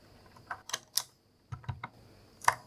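Clicky purple switches on a Razer keyboard are typed in a few sharp, separate keystrokes, each with a bright snap, with short pauses between small bursts. The sound is quiet and close.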